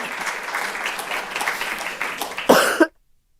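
Coughing from a speaker at a symposium panel, a few harsh bursts close to the microphone over a murmuring hall, with a louder final cough before the sound cuts out.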